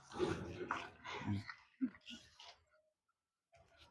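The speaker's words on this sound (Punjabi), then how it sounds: "ਦੇਖ ਸਕਦੇ ਹੋ ਬਈ ਕੁੱਤਾ" Pug puppy up for sale makes short whimpers and yelps, close by, mixed in with people talking.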